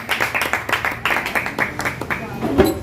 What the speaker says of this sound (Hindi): तालियों के साथ में उनका अभिनंदन